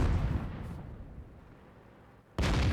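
An artillery gun fires in the World of Tanks video game: a booming blast at the start that fades into a long rumbling tail, followed by another abrupt loud burst near the end.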